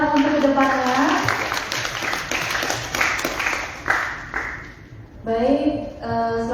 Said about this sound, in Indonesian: tepuk tangan untuk diri kita sendiri sebagai penyemangat untuk ke depannya